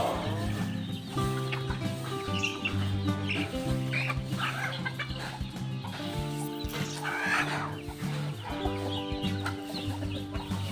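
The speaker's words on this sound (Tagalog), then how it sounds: "Natuwa yung ating mga manok na laki dito kasi lumabas na yung mga chicks." Chickens in a small backyard farm cluck and call continuously and fairly close, with overlapping hens and roosters and an occasional crow among the flock.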